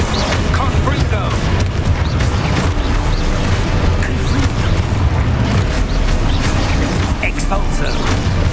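Rapid, dense bursts of booming blasts and crackling impacts from the Confringo explosion spell in a Harry Potter video game, continuous and loud over the whole stretch, with a voice talking over the action.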